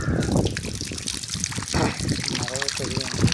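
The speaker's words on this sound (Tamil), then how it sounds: "இப்போ தண்ணி ஊற்றுறோம் பாருங்கள்" Water is poured onto a fragrant maragatham plant in a trickling, splashing stream close up, while a voice talks over it.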